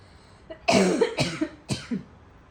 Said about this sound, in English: Sorry, I started coughing.